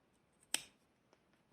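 Scissors make one sharp, close snip through the cotton coil wicking on a vape RTA deck, then a couple of faint clicks in an otherwise quiet room.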